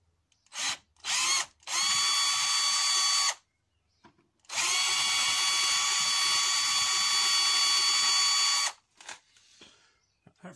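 A power drill bores holes for a linear actuator modification on a combat robot, in two whirring runs: a short one and then a longer steady one. Brief stop-start bursts of the motor come before and after.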